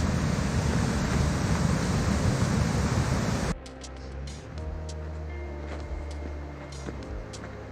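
Twin Falls in Silver Falls State Park pours as a loud, dense roar of rushing water for a few seconds, then drops to a quieter, distant wash with scattered footsteps and small outdoor noises.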